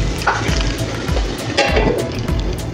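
A spoon scrapes and stirs a green pea stuffing for matar karanji in a frying pan, with rhythmic scraping strokes over a soft sizzle, close and fairly loud, with no talking.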